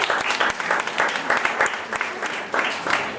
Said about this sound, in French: On applaudit encore une fois bien fort mon Gremlins de ce soir.